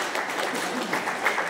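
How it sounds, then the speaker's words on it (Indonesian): Audience applause rises at a Catholic family commission workshop, a short burst of crowd clapping heard close and fairly loud, with murmuring voices underneath. "kita tepuk tangan dulu"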